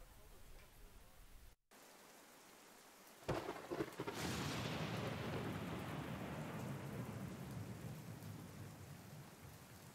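Heavy rain falls steadily while a thunderclap bursts out partway through and rolls into a long, loud rumble under the continuing downpour.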